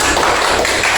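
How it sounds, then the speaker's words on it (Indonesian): Schoolchildren clap for a classmate in a classroom, a brief, dense patter of applause that fills the whole second at steady loudness. "tepuk tangan buat temannya"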